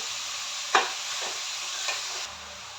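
Grated carrots frying in ghee for gajar ka halwa, a soft steady sizzle with a couple of brief stirring scrapes, close and quiet, ending with a slight drop in hiss.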